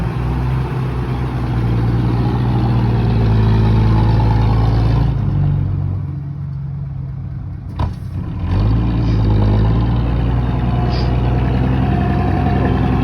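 A Rocky vehicle's engine runs loud and steady with a strongly howling turbo whine, briefly easing off mid-way before surging back up to a sustained roar.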